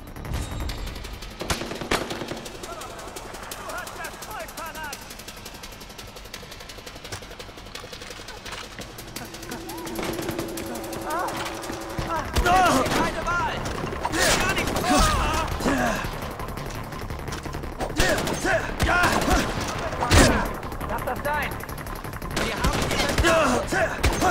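Bursts of gunfire in Far Cry 4: scattered single shots and rapid automatic fusillades growing denser and louder through the clip, with someone talking intermittently over the shooting.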